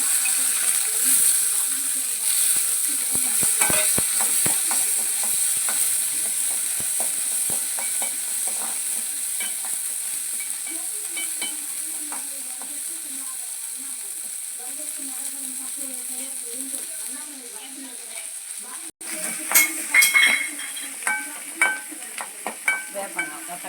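Washed garlic hits a hot pan and fries with a loud, steady sizzle and frequent scraping stirs, gradually quietening before a final burst of sharper clinks and crackle near the end.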